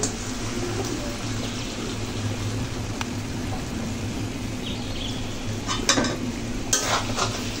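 Already-fried vegetables being added to spices cooking in a pan and stirred, a dense continuous sizzle over a low kitchen hum, rising into louder scraping and spattering near the end, no talking.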